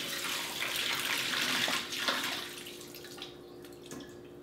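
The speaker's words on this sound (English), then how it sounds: "Once the sweet potato fries have soaked in the water, what I want to do is I'm going to just drain the water." Water draining from a bowl of soaked sweet potato fries, a steady close pouring rush that eases off into scattered drips.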